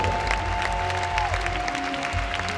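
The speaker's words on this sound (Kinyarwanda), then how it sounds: "Komera Imana amashyi mubyumvise neza." Steady applause from a church congregation, continuous and fairly loud for the whole moment, with a faint tone lingering underneath.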